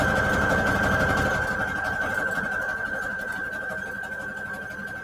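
A sewing machine runs steadily, stitching scrap fabric with white thread, a continuous close mechanical hum with a sustained whine throughout, slowly easing in loudness.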